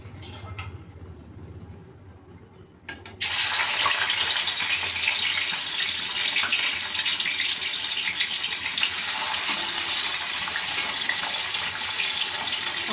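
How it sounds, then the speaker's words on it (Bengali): Rohu fish pieces slide into hot oil and set off a sudden loud, sustained sizzle that starts a few seconds in and stays bright and steady to the end, after a quieter stretch of faint kitchen noise. "এবার আমি একে একে মাছগুলো ভেজে নেব"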